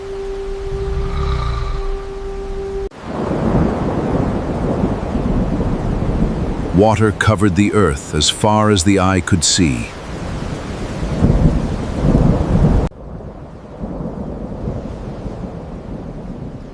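Thunderstorm sound effect with heavy rain and rolling thunder, a loud crashing burst in the middle, with a narrator speaking over the storm throughout.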